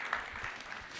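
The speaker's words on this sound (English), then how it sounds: "Can I get a round of applause for Sandy for working on diabetes?" Brief burst of audience applause at a talk on privacy-preserving AI, a steady wash of clapping across the whole second with no voices on top.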